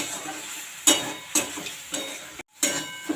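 Red spinach greens being stirred in a pan, with several distinct scraping stirs standing out over a continuous low sizzle, one brief total dropout near the end, and no voices.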